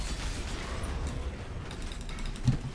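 Heist vault door in the video game Path of Exile grinding open with a steady mechanical creak and ratcheting rattle, ending in a low thump near the close; no talking.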